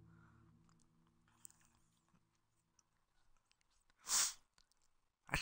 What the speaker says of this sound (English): Man, I gotta sneeze again.